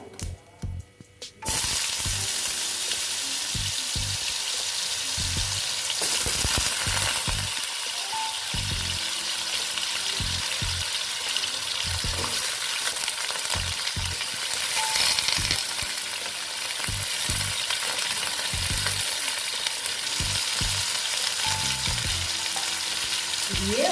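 Potatoes fry in hot oil with tempered spices for a banana flower curry, giving a loud, constant sizzle that runs throughout, broken by frequent clattering stirs of a spoon in the pan.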